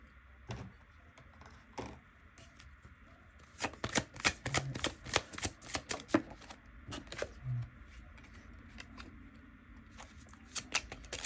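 Oracle cards being shuffled for a tarot reading, a series of crisp riffling and slapping bursts that cluster in the middle, close and fairly quiet against a still room.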